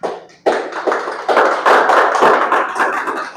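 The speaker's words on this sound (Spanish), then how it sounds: "Dele un aplauso al Señor." A church congregation applauds during a Spanish-language service, dense clapping swelling after a brief pause and holding steady and loud, with no talk over it.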